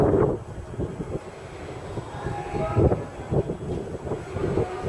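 A fifteen-car, four-door train rolls into a platform at Omiya station in Japan with low rumbling and irregular clunks, a faint squeal of brakes, and a muffled announcement voice briefly present.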